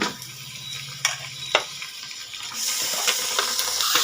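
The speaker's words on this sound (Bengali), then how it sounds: "5 মিনিট আমি এখন এইভাবে নাড়াচাড়া করে একটু ভেজে নেব।" Mutton pieces frying in a pan give off a steady, close hiss and sizzle, broken by occasional clinks of stirring, with the sizzle growing brighter and louder toward the end.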